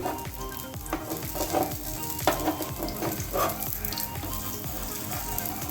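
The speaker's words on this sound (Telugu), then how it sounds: "ఆయిల్ పోసానండి. ఇప్పుడు కొద్దిగా ఎర్రగా కాల్చుకుందాం" A moong dal dosa (pesarattu) frying in oil on a hot pan, giving a steady close sizzle with soft crackling pops throughout and no one talking.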